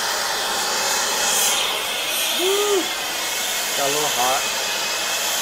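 A torch heating a pipe joint for brazing with sil-fos gives a steady, close hissing roar throughout, with a short voice sound and a few faint whistling tones over it.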